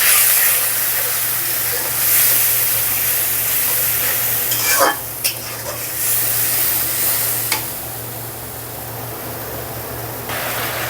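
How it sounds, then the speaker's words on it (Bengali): A spice paste with turmeric powder fries in a pan and is stirred, giving a continuous loud sizzle and hiss with a few sharp scraping strokes, close up and with no talk. "দিয়ে দেব পরিমাণ মতো হলুদের গুঁড়া। এবার মশলাটাকে কষিয়ে নিব।"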